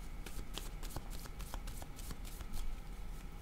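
Cards riffled and handled from a tarot deck, a close run of crisp flicking and shuffling snaps at an even, busy rhythm, alone without talk.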